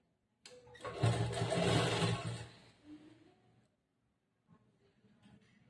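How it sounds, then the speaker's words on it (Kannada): A sewing machine stitches a lined blouse with a border, running in one steady whirring burst of about two seconds, then slowing and stopping, with a brief faint restart near the end. "ಜೋಡಿಸ್ಕೊಂಡು ಇಲ್ಲಿ ಹೊಲಿಗೆ ಹಾಕ್ಬೇಕು ಒಂದು ಸ್ಟ್ರೈಟ್ ಆಗಿ."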